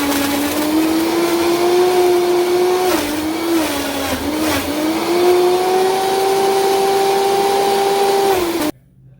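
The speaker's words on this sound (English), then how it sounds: "So again, we're gonna turn our blenders on" A Vitamix blender whirs loudly and steadily for about eight seconds, its motor pitch dipping briefly mid-run as it churns, then cuts off abruptly near the end.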